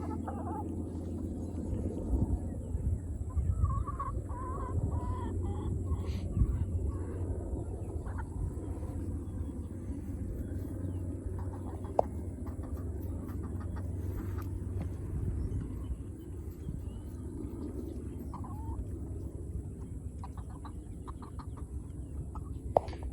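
Egg-laying hens in a raised garden bed cluck and fuss in the distance over a low, steady rumble, with occasional sharper squawks as they squabble over a watermelon.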